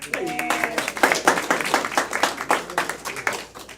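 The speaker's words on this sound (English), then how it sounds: "Clap for yourself." Audience at a live comedy-style event clapping in bursts, irregular hand claps rising and falling, with some talk and voices mixed in beneath the claps.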